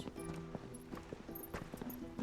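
Goats' hooves clip-clop in a video game, a quick, uneven run of light taps over a faint tonal backdrop.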